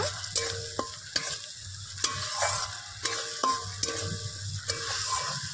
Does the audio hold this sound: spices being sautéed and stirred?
yes